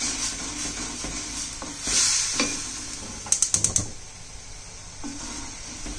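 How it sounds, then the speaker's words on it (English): A paste of onion, ginger, garlic and tomato sizzles softly in a pan, with a steady low hiss broken by a few quick scraping and clinking stirs, close and quiet. "added the paste of onions, ginger, garlic, tomatoes into this"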